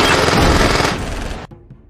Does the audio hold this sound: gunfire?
yes